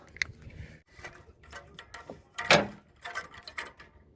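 An O2 sensor socket on a ratchet removing the upstream oxygen sensor from a 2006–2011 Honda Civic, giving close, quiet ratcheting clicks and metallic taps in short bursts with pauses between.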